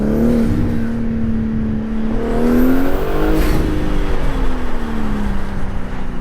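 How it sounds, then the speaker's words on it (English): BMW engine fitted with MST air intakes revs loudly up close, a throaty roar that climbs and eases back in pitch over several seconds with intake whoosh and whir. "The sound of these intakes is absolutely amazing."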